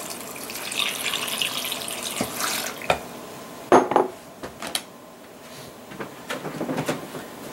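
Pineapple water splashes and trickles into a blender, with clinks and knocks of kitchenware scattered throughout, close and moderately loud.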